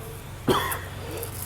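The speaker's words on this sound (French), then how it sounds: "Je tousse un petit peu" One short, sharp cough close to the microphone, standing out from a quiet background hum.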